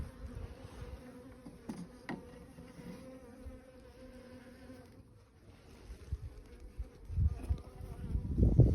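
Honey bees hum around an opened hive as the first frame is pulled, a faint steady buzz with a few louder passes close by and rustling bumps rising toward the end.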